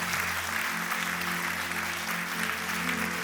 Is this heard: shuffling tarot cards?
no